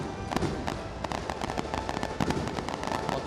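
Championship celebration fireworks burst over a football stadium at an ASEAN women's tournament, a steady run of sharp crackling pops and bangs, fairly distant, filling the air continuously with no talk.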